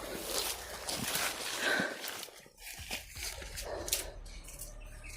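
A dog makes short yips and whimpering barks at a moderate distance, mixed with rustling and faint background noise.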